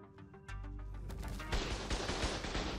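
Gunfire in the survival video game ARK, starting with a few separated shots and building into rapid loud bursts of machine-gun fire close by, with no talking.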